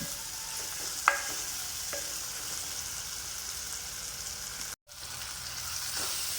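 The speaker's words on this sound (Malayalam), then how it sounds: "തക്കാളിയൊക്കെ ഏകദേശം നന്നായിട്ട് വഴറ്റിയെടുത്തിട്ടുണ്ട്" Tomatoes sautéing in a pan for a small sardine curry, with a steady hiss of frying, a couple of light utensil taps early on and a brief dropout of sound partway through.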